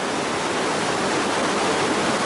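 A creek rushing steadily through an Austrian forest and meadow setting, a dense, even wash of flowing water that fills the whole stretch without pause or voices.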